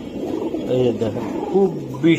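Racing pigeons coo softly in a loft, with a few low warbling calls rising and falling under nearby conversation.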